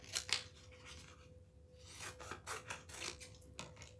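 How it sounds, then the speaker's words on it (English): Scissors cut through 651 adhesive vinyl trimmed from a garden flag for a door hanger, giving several close, crisp snips with soft rubbing and sliding sounds between the cuts. "I'm just going to trim this down."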